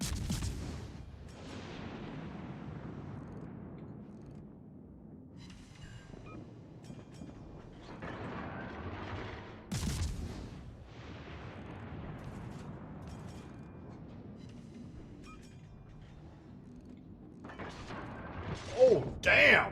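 Ship guns firing in World of Warships Legends, heavy booming salvos at the start and again near ten seconds, each trailing off into a rumbling decay over low mechanical background.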